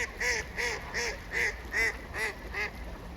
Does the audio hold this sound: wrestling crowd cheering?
no